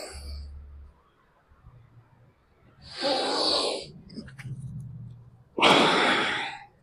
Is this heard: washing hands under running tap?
no